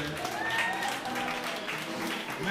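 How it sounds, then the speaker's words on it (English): An audience applauds members of a jazz orchestra with steady, continuous clapping that fills the room, while a voice speaks over it. "Please give a round of applause for Michael Watson"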